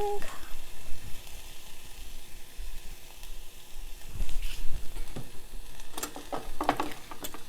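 Hing (asafoetida) hits hot oil for an Indian tadka, giving a steady crackling sizzle with bursts of louder spitting and clatter near the middle and end.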